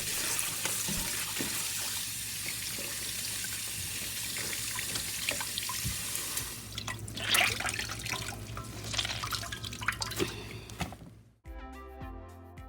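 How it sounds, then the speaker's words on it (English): Fish maw rinsed under cold running water gives a continuous tap-and-sink rush with splashing and dripping that shifts as it is handled and squeezed, then stops abruptly near the end, close and fairly quiet, with no talk. "Rinse in cold water, squeeze out the water."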